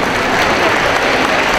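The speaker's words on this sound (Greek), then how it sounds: "να το χειροκροτήσουμε" Loud, dense applause from an audience at a pita-cutting event in Chalkida, thanking a member of parliament, a brief steady burst of clapping with no speech.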